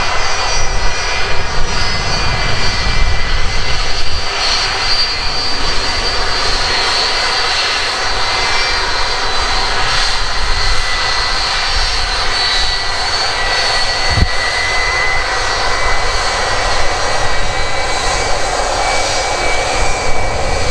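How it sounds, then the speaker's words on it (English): A Delta Air Lines Airbus A321 jet passes at an airport, its engines giving a steady, loud roar that holds for the whole stretch, with a faint higher whine on top and no voices. "A321 belonging to Delta Airlines. That's on its way from Frankfurt to New York"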